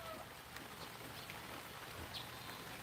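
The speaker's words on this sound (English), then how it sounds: "It's raining pretty hard." Heavy rain pours down outdoors in the Bohol countryside, a dense steady hiss that stays constant throughout, with no talking.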